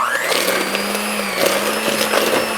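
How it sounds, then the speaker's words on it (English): An electric hand mixer creams ingredients together in a kitchen for a pumpkin puree bake, a steady whirring motor hum with a rising pitch at start and faint rattling of beaters against the bowl, close and alone. "a hand mixer would do just fine. So we're going to mix these, well, they say cream these together"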